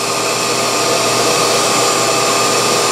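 A homemade vacuum thermoformer pulls down on a thick Kydex sheet with a loud, steady, broadband roar that holds constant throughout, with no voices.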